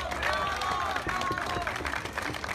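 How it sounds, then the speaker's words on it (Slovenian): Crowd applause at an outdoor rally, a dense patter of clapping mixed with cheering voices and murmur, fairly close and sustained through the short stretch. "Aplavz za gospoda Andreja Breznika."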